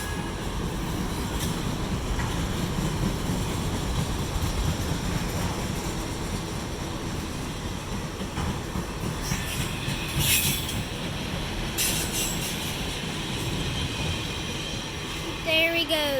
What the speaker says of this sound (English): that was the longest autorack train ever